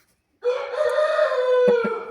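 A rooster of a crossbred fighting line crows once, a loud, close, sustained call that starts after a short silence and holds steady to the end, with a couple of brief knocks near the finish.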